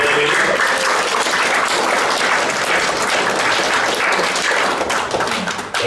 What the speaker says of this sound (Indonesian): Sekali lagi aplaus untuk 3 pembicara kita malam ini.